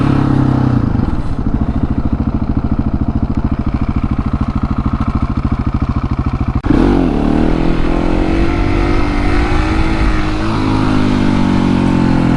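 Loud and close, a KTM 701 Supermoto single-cylinder engine drones at a steady pitch with a chattering pulse. Partway through, a sharp jump lifts it into a higher, strained rev that holds until the end. No voices are heard.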